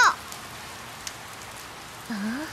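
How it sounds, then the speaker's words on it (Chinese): Rain patters steadily at a low level in a children's cartoon, a soft continuous hiss beneath brief high cartoon voices at the start and end. "下雨了！"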